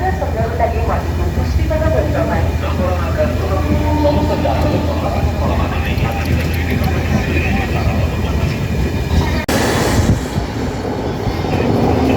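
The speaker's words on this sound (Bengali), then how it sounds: "আমাদের ট্রেন ঢুকছে বালেশ্বর স্টেশনে one two zero seven four Bhubaneswar Howrah Janshatabdi" The Bhubaneswar–Howrah Jan Shatabdi train entering Balasore station on platform three, a loud steady rumble and rhythmic clatter of wheels over rail joints heard from inside the coach, with a brief sharp burst near the end.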